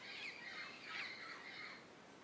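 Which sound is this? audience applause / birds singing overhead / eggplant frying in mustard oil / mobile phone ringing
birds singing overhead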